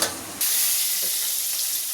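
Onions drop into hot oil for tempering with a sudden burst, and a loud, steady sizzle and hiss follows close up.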